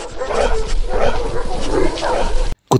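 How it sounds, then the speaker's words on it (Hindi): Dogs bark and yip repeatedly in a loose rhythm, fairly loud and close, ending with a brief silence and a final short bark. "कुत्ते जरूर पिंगल के होंगे, वे मुझे फाड़ कर रख देंगे"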